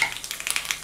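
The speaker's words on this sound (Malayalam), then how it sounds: "ഇനി നമുക്ക് ലേശം കടുകിട്ട് പൊട്ടിക്കാം. അതോടൊപ്പം തന്നെ വളരെ കുറച്ച് ഉലുവ." Mustard seeds and a pinch of fenugreek crackle in about two tablespoons of hot oil, a quick burst of sharp little pops and sizzle for under a second, with no voices.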